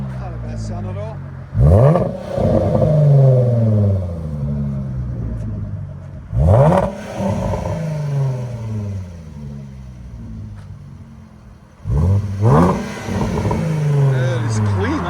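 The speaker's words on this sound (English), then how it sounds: "Clean deep tone because it's supercharged." A supercharged 2018 Jaguar F-Pace Type S 3.0L with a muffler delete gives three sharp, deep revs at spaced intervals, each settling back to a steady loud idle, with talking underneath.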